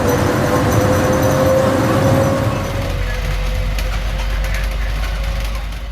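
A Bombardier Innovia APM 100 people mover at the old Changi Airport runs with a steady mid-pitched whine and rolling rumble, which eases slightly partway through as the ride continues.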